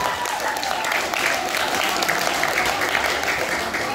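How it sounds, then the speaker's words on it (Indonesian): Applause from a school student council audience for the chairperson and vice-chair candidate pairs at a debate, a steady, fairly loud wash of many hands clapping for the full four seconds with a little crowd murmur mixed in. "Tepuk tangan untuk masing-masing pasangan calon."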